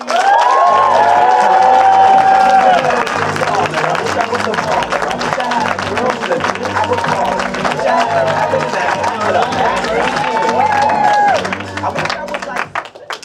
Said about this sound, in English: warm round of applause and raucous cheers for Adam